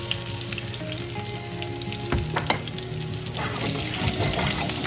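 Green chili and crushed fennel seeds fry in hot oil in a pan, a steady close sizzle with a few sharp crackles and clinks of stirring in the middle, no talking.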